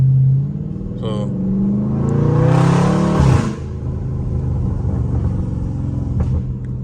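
Dodge Scat Pack car engine rumbling loud and close, swelling into a rising rev that peaks and drops back to a heavy burbling idle, with a brief vehicle sound near the start.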